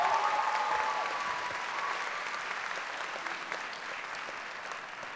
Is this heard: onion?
no